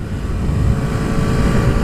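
A KTM Duke 125 motorcycle engine drones steadily at speed, a loud continuous hum blended with wind rushing over the microphone, without any clear rise or fall in revs.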